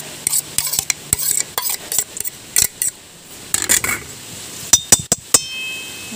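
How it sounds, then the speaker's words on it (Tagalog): Onions and garlic being stirred in a frying pan, a utensil scraping and clinking against the metal in quick irregular strokes over a steady sizzle. "Halo natin yung sibuyas at bawang."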